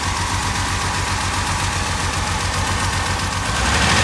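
A Ford Sierra Estate Mk1 4x4 Ghia 2.8i idles with a close, steady low rumble and a slight uneven misfire pulse, rising a little louder at the end, with no voices.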